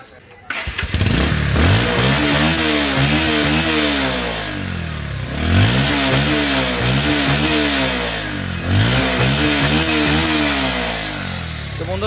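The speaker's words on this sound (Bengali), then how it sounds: "ইঞ্জিন সাউন্ডটি অনেক ভালো আছে, অনেক সুন্দর আছে" A blue second-hand Bajaj Pulsar 150cc motorcycle engine runs up close, loud and continuous, rising and falling through several repeated revs over the steady idle.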